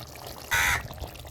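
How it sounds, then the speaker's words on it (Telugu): A single harsh crow caw rings out briefly, fairly close, over a quiet outdoor background. "కాకులు అరుస్తున్నాయిలా"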